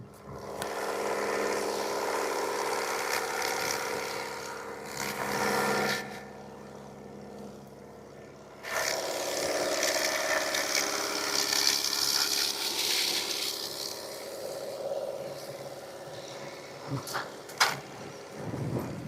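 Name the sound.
tractor engine running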